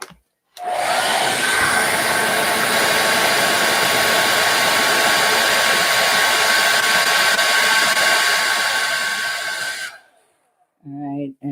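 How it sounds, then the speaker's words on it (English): A blow dryer runs steadily for about nine seconds, drying stencilled fabric paint, with a loud, even whooshing roar that cuts off abruptly before a voice begins. "I use a blow dryer even underneath to come under here."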